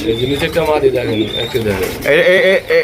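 Pigeons, including a blue variety kept with eggs and chicks at a market stall, coo in low, throaty repeated calls close by, mixed with busy background noise and voices.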